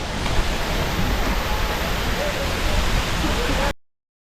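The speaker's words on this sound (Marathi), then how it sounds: "तुम्ही इथे बघू शकता, हाच तो धबधबा." The Kalmandavi waterfall roars with a steady, dense rush of falling water, loud and unbroken until it cuts off abruptly.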